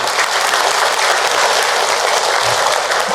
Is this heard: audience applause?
yes